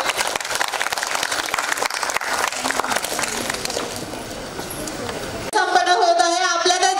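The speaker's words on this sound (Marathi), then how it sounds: "जोरदार टाळ्यांच्या गजरामध्ये आपण सर्व मान्यवरांचं स्वागत करूया" An audience at a kids' fashion show in Maharashtra claps steadily for several seconds in a broad, dense wash, then the applause gives way abruptly to music starting up.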